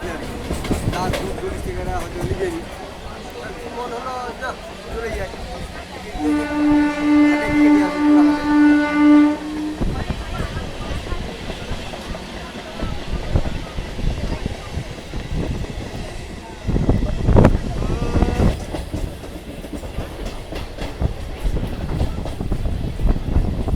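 A crowded Howrah–Kharagpur local train on the Mecheda line sits at a busy station, then departs with a long sustained horn blast and a rising rumble of wheels, while passengers' voices and platform noise continue throughout.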